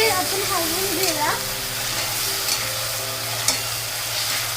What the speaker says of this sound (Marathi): टोमॅटोचे काय पीसेस टाकले चांगले आपण हलवून घेऊया.